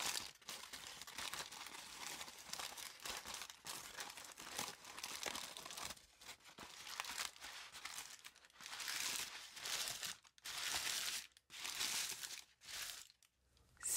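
Crumpled paper being slowly unfolded for homemade faux leather, giving a continuous close crinkling and crackling with brief pauses between handling movements and no talk.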